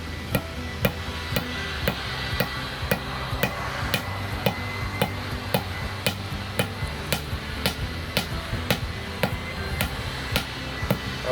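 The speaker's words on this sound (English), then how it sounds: "We're going to pound it down until this is about flush with the ground." Steady hammer blows drive a stake flush into lawn ground at a regular pace, each sharp metallic knock ringing out clearly over a low background rumble, about two per second.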